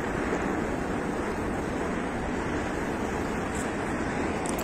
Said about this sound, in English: The waves look like they're getting bigger and bigger.